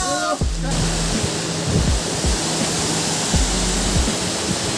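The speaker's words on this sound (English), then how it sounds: "Alright, so we are close to the waterfall." Daribok and Rongbang waterfall in West Garo Hills roars up close as a loud, steady, broadband rush of falling water, with faint low thumps underneath and no talk.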